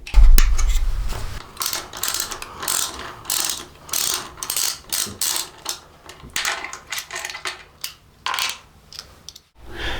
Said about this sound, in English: Using our 13mm socket with the extension, we're going to remove the bolt on the back of the rear fender here.